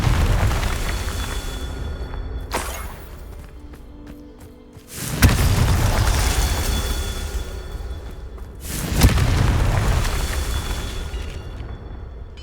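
Spell blasts from the Hogwarts Legacy video game: three heavy booming explosions, the first soft around 2.5 seconds, then two loud sudden bursts near 5 and 9 seconds, each trailing off in rumbling debris over a continuous low background.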